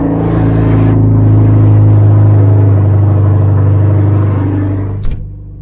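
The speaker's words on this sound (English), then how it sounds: "So yeah, do a little cold start." Hyundai Genesis car engine on a cold start, a loud steady idle drone with a deep rumble close by, holding for several seconds before a brief clunk near the end.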